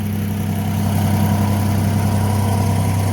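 An International 4140 skid steer loader's engine runs steadily at idle nearby, a loud low droning hum with an even tone for the whole clip.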